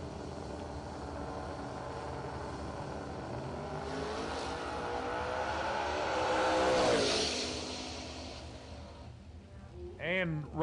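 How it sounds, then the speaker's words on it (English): A drag race between a black Fox body Mustang and a later model Mustang GT roars as a loud engine sweep builds and swells to a peak mid-run, then fades, with a voice cutting in near the end. "left lane, Logan Duvall, the black Fox body taking on the later model Mustang GT"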